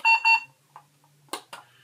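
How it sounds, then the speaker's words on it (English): Two short electronic beeps from a recordable talking button for a dog sound in quick succession, followed by brief quiet clicks and a couple of faint noises near the end. "You just hold the button down until it beeps"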